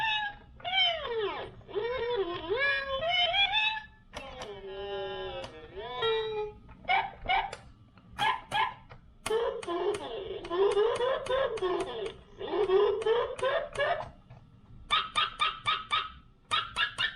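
A circuit-bent toy makes a rapid series of high-pitched electronic dog yaps and chirps, squeaky and synthetic, in short bursts with brief pauses, fairly loud and close.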